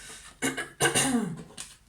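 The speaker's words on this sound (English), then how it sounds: "Forgive me for the coughing, I'm in the midst of a flu." A few short coughs from someone with flu, in quick succession, close and fairly quiet, with brief silence between them.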